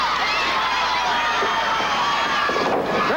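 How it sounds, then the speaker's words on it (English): Wrestling arena crowd at a Billy Joe Travis vs Al Madril match, cheering and yelling in a steady, dense roar with scattered shouts rising above it throughout. "The crowd yelling"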